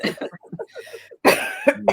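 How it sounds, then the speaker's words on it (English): Voices chatter briefly, then a loud close cough bursts out, followed by a couple of short throaty coughs. "We're both coughing today."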